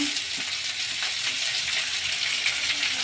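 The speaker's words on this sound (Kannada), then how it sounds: "ಈಗ ಕರ್ಬೇವಿನ ಸೊಪ್ಪು ಹಾಕೊಳ್ಳೋಣ" Curry leaves dropped into hot oil for a soya keema paratha filling, giving a steady broadband sizzle and crackle that stays loud and even throughout, with faint stirring clinks and no talking.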